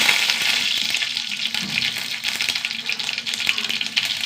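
Mustard seeds and dried red chilies frying in hot oil for a curry, a bright continuous sizzle with faint scattered pops and crackles, close and steady throughout.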